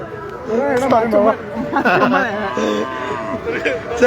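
Cattle at a rural cow market in Noakhali, Bangladesh: several moderately loud moos rise over chatter and close voices, amid a crowded outdoor livestock bazaar.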